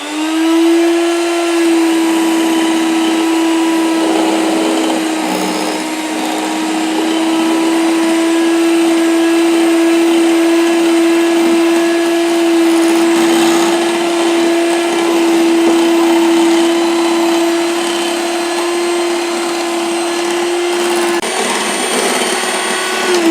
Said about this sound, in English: So I'm going to whisk it gently for about 2 to 4 minutes or until it's soft and very fluffy